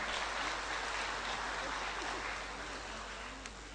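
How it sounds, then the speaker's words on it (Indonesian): Graduation ceremony audience applauding during a speech, a fairly faint, even patter of many hands clapping heard from a distance, holding steady and easing off slightly near the end. "Tepuk tangan."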